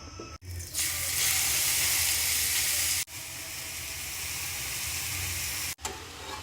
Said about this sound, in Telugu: దాంట్లో ఇంకొంచెం నెయ్యి వేసుకొని మనం తరిగి పెట్టుకున్న క్యారెట్ తురిమేసేస్తున్నాము